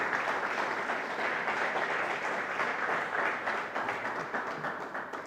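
Sustained, dense applause from a church congregation clapping for the Lord during a service, steady and continuous throughout with no talk over it.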